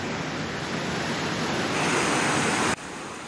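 Rushing river water swollen and widened after Hurricane Helene, a loud steady broadband roar of flowing water with no voices, cutting off abruptly near the end.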